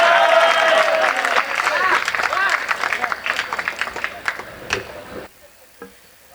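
Audience clapping at a Hindi poetry recital, a crowd's steady applause with a bright whistle-like tone at first, then thinning into scattered claps before falling almost silent.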